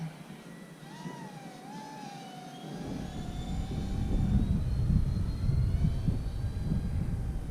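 An FMS A-10 Thunderbolt II 70mm EDF model jet flies overhead, its ducted-fan whine sliding in pitch as it passes, then a louder rushing roar builds as it comes back over the field.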